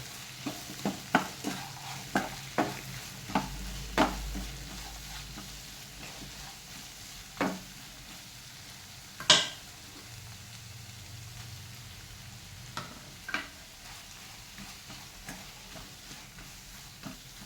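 Chutney ingredients roasting and being stirred in a pan before grated coconut goes in, giving a steady low sizzle broken by a run of sharp spatula scrapes and taps, then a few louder knocks later.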